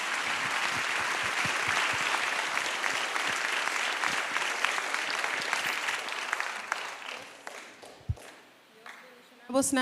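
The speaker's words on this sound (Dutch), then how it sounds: "Ontvang haar met een flink applaus." A live worship concert audience in the Netherlands applauds to welcome a singer with dense, sustained clapping that thins out and fades, and a voice speaks at the close.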